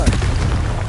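The Confringo blasting spell going off in the video game Hogwarts Legacy, a short, loud, rumbling burst that lasts under a second.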